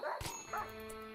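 A dog in the Rimworld Alpha 17 video game gives a few short yelps and a whimper as it dies, set over a faint steady in-game background hum.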